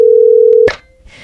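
A telephone being dialled to call the police gives a loud, steady tone that is cut off by a click, then leaves faint hiss in near silence.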